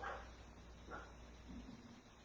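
Pet dogs barking faintly at a distance inside a home during Christmas wreath making, two or three brief yips spaced apart over low background noise.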